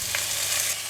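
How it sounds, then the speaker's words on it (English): Washed mushrooms drop into hot oil for a tofu dish, setting off a steady broadband sizzle that runs the full second at moderate loudness, with a brief brighter burst near the start. "When the oil is hot, add in the washed mushroom."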